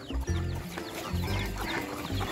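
Chickens cluck nearby in short, overlapping bursts, with soft chirps and a busy barnyard background on a pig farm during wet feeding of sows.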